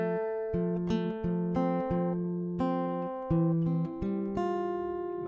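Acoustic guitar strums chorus chords, a steady series of ringing strummed chords changing about every half second to second, played alone and close with no voices.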